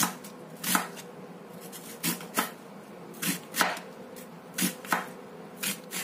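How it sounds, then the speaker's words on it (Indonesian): A knife cutting an onion on a board for a fish dish, giving irregular crisp chops and taps spaced roughly half a second apart, close-up with a faint steady background hum. "Terus bawang bombaynya ini kita potong seperti ini aja."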